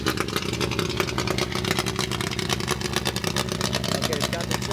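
A Triumph Spitfire engine idles with the choke on, a steady close chugging with fast even pulses and a slightly raised idle, running on its own without talk.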